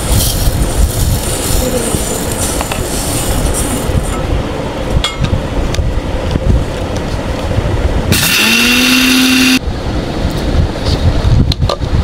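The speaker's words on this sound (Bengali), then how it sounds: "এই চালগুলো এখন আমি ব্লেন্ডারে দিয়ে দিব। ব্লেন্ডার করে নেব।" A kitchen blender grinding rice whirs up to speed in a single loud burst of about a second and a half, standing out over a constant noisy background before cutting off abruptly.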